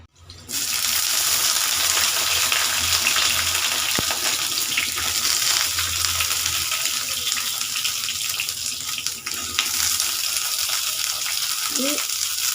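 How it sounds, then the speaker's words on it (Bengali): Small chopped eggplant pieces drop into hot mustard oil and fry with a loud, steady hiss and crackle after a sudden start, running continuously, with a few faint sounds of handling near the end. "তেলটা গরম হয়ে গেছে, এর মধ্যে দিয়ে দেব ছোট করে কুচিয়ে রাখা বেগুন।"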